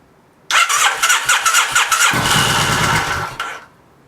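An old engine left sitting 22 years in a shed cranks in rapid chugging pulses, then fires and catches into a loud, rough running roar for about a second before cutting off, close up.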